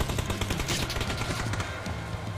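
Gunfire from a shooter video game crackles in rapid bursts, dense and steady in the background for a couple of seconds.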